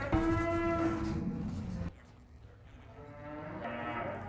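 Cattle held for sale low loudly nearby, one long drawn-out moo followed by a brief lull, then another rising call from the herd.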